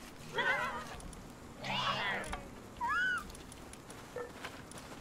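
Cat creature in the Palworld video game meowing in several short, separate calls, including a clear rising-falling meow, fairly loud against a low game background hum.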